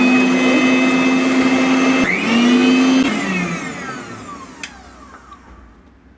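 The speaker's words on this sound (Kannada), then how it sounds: "ಈಗ ಮಿಕ್ಸರ್ ಮೇಲೆ ಮಿಕ್ಸರ್ ಮಾಡ್ಕೊಳ್ಳುವ ಅದಕ್ಕೆ ಉಪ್ಪನ್ನು ಹಾಕ್ಕೊಳ್ಬೇಕು" An electric mixer grinder whines loudly while grinding ingredients for buttermilk curry, briefly stops and restarts, then winds down and fades to quiet.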